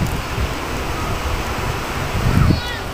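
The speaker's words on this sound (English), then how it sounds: "Wind's nice, blowing." Wind blows steadily outdoors on a calm night, a continuous low rushing and rumbling with a slight swell toward the end, heard close against the microphone.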